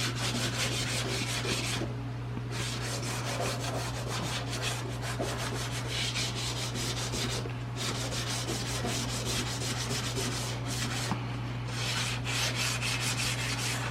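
Sandpaper rubbed by hand over rusty drip rails on an old Dodge makes continuous rhythmic scratching strokes, close and steady, with no voices.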